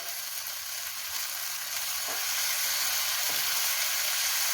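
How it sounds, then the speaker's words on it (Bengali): Bengali prawn curry masala base with tomato paste and green chillies fries in a pan, a dense continuous hiss of sizzling oil with soft stirring scrapes underneath. "ভালো করে নাড়াচাড়া করব।"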